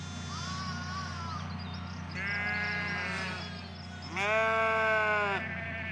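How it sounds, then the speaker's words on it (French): Landes de Bretagne ewes bleat on heathland pasture in two or three wavering calls, the last one loudest, over a low steady background rumble. "On a remis du coup des brebis Landes de Bretagne sur les Landes de Bretagne historique."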